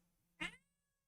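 A young, unneutered male cat gives a single short meow, fairly close and clear, in an otherwise quiet room.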